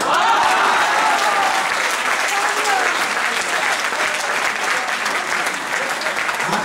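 At a poetry recitation at GLA University in Mathura, a large audience claps in a dense, sustained burst, holding loud and even for several seconds before easing slightly toward the end.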